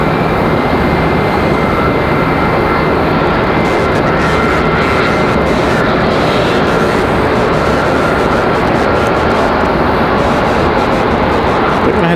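A Frontier Airlines jet departs for Atlanta with a loud, steady roar of engine noise that holds at full strength without letup, and no voices are heard over it.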